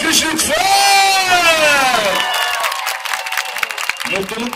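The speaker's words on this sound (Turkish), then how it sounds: "Kocaman bir alkış lütfen" Wedding guests break into loud whoops and a drawn-out cheer, then dense, steady clapping fills the room to the end, with shouts scattered through it.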